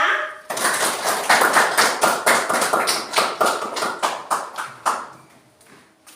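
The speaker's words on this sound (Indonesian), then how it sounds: "Mari kita tepuk tangan untuk kelompok 3." A classroom of schoolchildren gives a group a burst of rhythmic, fairly slow clapping in unison, loud and close at first, then thinning out and fading toward the end.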